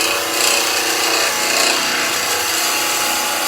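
A woodturning gouge cuts into spinning wood on a lathe with its bevel rubbing, giving a steady, loud, close scraping and shaving hiss that runs continuously throughout.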